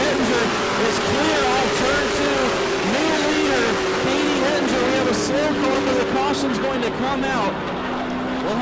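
Race cars roar past at New Smyrna Speedway during a Pro Late Model event, engine whine rising and falling as the field streams by in a dense continuous drone, with a commentator talking over it.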